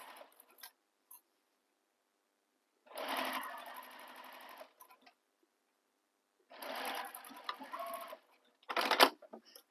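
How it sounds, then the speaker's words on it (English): A sewing machine stitches across the top edge of a bag's slip pocket in two long runs of rapid, even whirring, with a few short start-stop bursts and quiet pauses between. "we're going to sew across this top edge here using the seam allowance given in the pattern"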